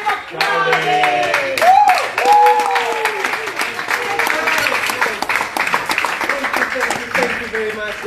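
An audience at a business talk applauds the speaker with dense, lively clapping that runs throughout, while voices speak and call out over the sound of the hands.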